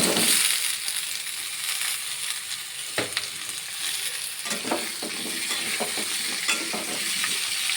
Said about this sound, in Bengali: ভালো করে নেড়ে চেড়ে নেব আলুটা।